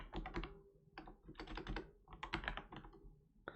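Close, quiet computer keyboard typing comes in three quick bursts of clicking keystrokes with short pauses between them.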